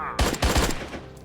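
Gunfire in the video game Attack of the Earthlings: a quick run of loud, close shots in rapid succession, about four sharp bursts within a second before the sound tails off.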